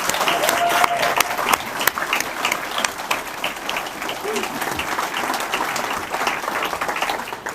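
A town hall audience in the Comox Valley gives another round of applause for the speakers, a continuous wash of clapping hands with a few sharper claps standing out, steady throughout with no talk.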